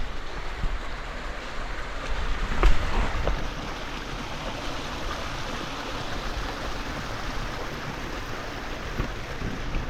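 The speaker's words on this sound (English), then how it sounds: "There's a tiny little river, but sometimes I guess this is flowing very hard." A small river rushes steadily through the Köprülü Canyon in Turkey, its broadband water noise constant and fairly close, with a brief knock near the start and no voices.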